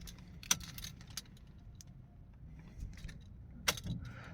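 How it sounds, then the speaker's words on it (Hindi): Car keys jangle and click as they go into the ignition of a Tata Altroz, with two sharper metallic rattles over a low, quiet cabin hum. "चाबी लगाते हैं और अब"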